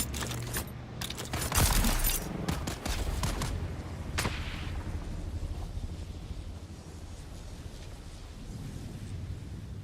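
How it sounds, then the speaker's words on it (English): Gunfire in the video game Dune: Awakening, a burst of rapid sharp shots early on followed by a single loud crack, then a rumbling tail fading under steady ambient noise. "You're shooting at me?"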